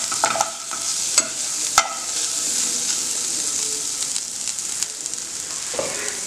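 Paneer pulao mixture with fresh coriander and double the mint being stirred in a hot pan, a steady scraping and stirring with soft sizzling throughout and a few sharper utensil clicks.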